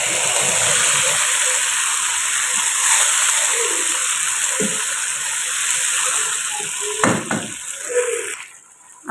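Chopped tomatoes added to a hot pan with garlic for a kofta curry gravy fry with a steady, loud sizzle throughout, with brief clattering stirs and a splash near the end.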